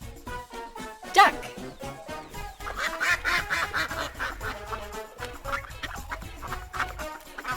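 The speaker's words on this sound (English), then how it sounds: "Duck." A cartoon duck quacks over a busy, bouncy children's music backing, with a sharp burst near the start and more calls blended into the tune.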